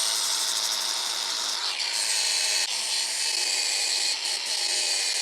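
A flap disc on a power grinder steadily grinds a worn, rounded zero turn mower blade, giving a loud, continuous close-up whine with brief shifts in pitch as the disc bites the metal.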